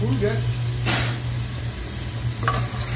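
Fish frying in a pan over a high gas flame, a steady close sizzle running throughout with a low hum beneath and a brief clatter of stirring.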